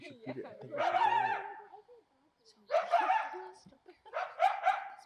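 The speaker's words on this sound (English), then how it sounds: "It is about time that they start barking." At night in Griffith Park, Los Angeles, coyotes give three short clusters of yipping barks, fairly clear and not too distant, with quiet gaps between and some voices mixed in.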